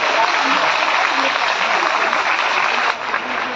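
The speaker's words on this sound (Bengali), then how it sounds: "তাই ওদের জন্য অনেক বড় তালি দিতে হবে" Large audience at a devotional gathering in Bardhaman clapping loudly and continuously, a dense steady patter of many hands that stays near and even, easing slightly toward the end.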